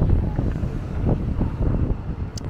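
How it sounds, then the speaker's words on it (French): Steady morning wind near Las Vegas buffets the microphone in low, rumbling gusts, with a brief faint high tone near the end. "Là il y a du vent ce matin."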